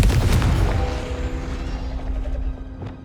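A Confringo fire-blast spell explodes in the Hogwarts Legacy video game, a loud booming burst that rumbles and decays over a few seconds, with a smaller thump near the end.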